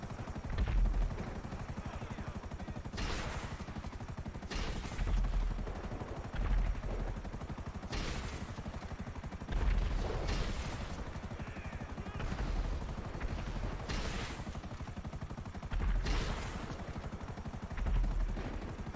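Faint rotor thrum of a helicopter in GTA V Online with repeated bursts of gunfire every few seconds, distant and muffled, no talking.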